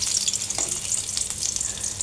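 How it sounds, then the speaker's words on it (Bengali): Koi fish tails sizzle in hot oil for tel koi, a steady close-up crackle that holds evenly from start to end with no voices. "এই তো বাকি মাছগুলো ভেজে নিলাম"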